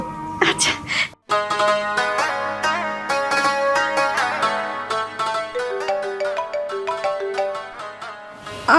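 A mobile phone rings with a loud, close melodic ringtone that plays a repeating tune continuously, briefly cut near the start, with a voice heard faintly at moments.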